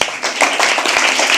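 An audience at a live poetry open mic applauds with steady, close, fairly loud clapping that fills the short moment without pause.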